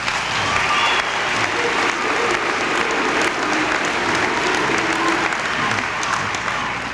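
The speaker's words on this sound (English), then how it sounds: "you started yelling for Coop" A large crowd at an Iowa caucus rally in Waterloo yells, cheers and applauds for Congressman Cooper Evans, a loud, steady roar that holds for several seconds without a break.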